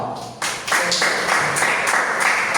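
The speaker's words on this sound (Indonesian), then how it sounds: "Ya, tepuk tangannya untuk kelompok Bung Karno." Students in a high school history classroom clap for a group, the applause starting unevenly and swelling within half a second into loud, close clapping that continues steadily.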